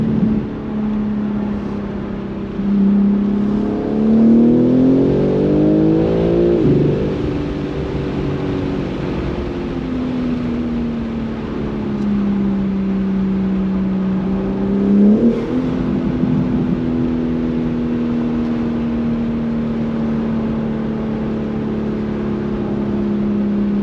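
A BMW M3 fitted with a BMS intake runs close by in launch mode, its engine droning steadily, then rising in revs around the middle and again shortly after before settling back to a steady hum.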